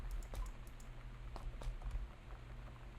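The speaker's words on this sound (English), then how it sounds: "Really need a new keyboard. Constantly dropping keys" Typing on a worn computer keyboard that drops keystrokes, a quiet run of quick irregular key clicks over a low steady hum.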